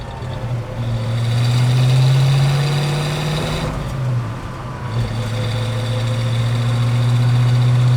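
A Ford Boss 302 engine runs with a steady, close low rumble and a constant hum, dipping briefly around the middle before settling back; no one speaks.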